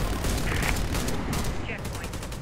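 Gunfire in a co-op shooter game on the Pripyat map, a dense loud burst of rapid shots with no gaps, filling the whole stretch at steady volume.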